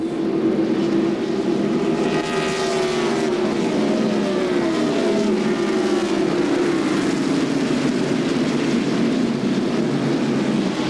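NASCAR Winston Cup stock cars race at Darlington in the 1997 Dura Lube 200, engines roaring loud and continuous, with rising and falling whines as cars pass close by.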